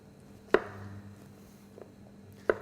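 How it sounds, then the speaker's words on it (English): Knife roughly chopping chestnut mushrooms on a board: two distinct, sharp chops about two seconds apart over a quiet background, close and moderately loud. "So roughly chopped. Same with our chestnut mushrooms."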